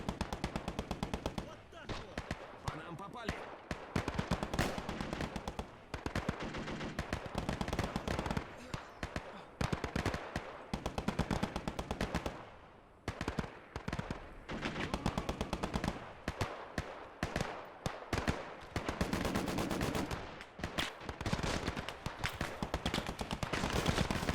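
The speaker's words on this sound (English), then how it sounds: "that machine gun is tearing them up here. It's so cool to hear it from a distance." Distant machine gun fire in the WWII strategy game Gates of Hell, during a Soviet battle in Alaska, loud continuous rattling bursts with brief gaps over about twenty-four seconds, with a voice talking over it.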